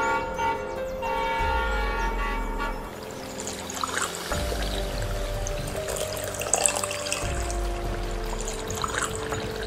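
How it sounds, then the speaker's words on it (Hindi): Water pours and trickles as a cartoon train fills village ponds, set against a looping musical background with no talk. "वो ट्रेन चलाते हैं और तालाबों को पानी से भर देते हैं।"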